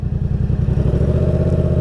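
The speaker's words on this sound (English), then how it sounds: "You can hear the noise is changing, my revs going down." A motorcycle engine idles with a steady, rumbling throb, its pitch easing slightly lower as the revs settle, close and continuous.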